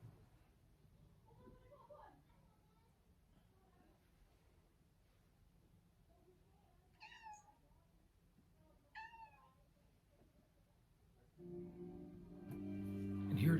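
A pet cat meows a few times, soft and fairly close, over very quiet classical music that swells louder near the end.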